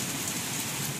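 Steady heavy rain pouring down during monsoon weather outside a house, a dense continuous hiss close by that cuts off abruptly near the end.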